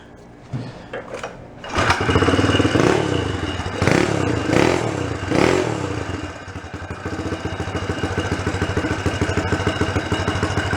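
A small homemade 1955 motorbike engine coughs, catches and revs up loudly, then settles into a rough, rattling idle that keeps chugging close by.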